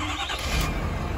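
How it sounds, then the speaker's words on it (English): A 2018 Ford F-250 XL flatbed pickup's engine cranks and fires, a brief loud burst that settles into a steady idle rumble, close by with no talking. "we'll start it up again"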